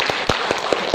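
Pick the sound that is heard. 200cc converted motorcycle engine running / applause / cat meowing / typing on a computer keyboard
applause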